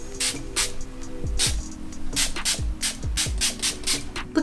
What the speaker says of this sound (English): you should probably use this spray because it's gonna make you glittery